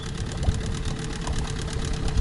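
A Mikatsu 9.8 two-cylinder outboard boat motor runs during break-in, a steady, even putter with a fine rhythmic knock, close and continuous for a couple of seconds.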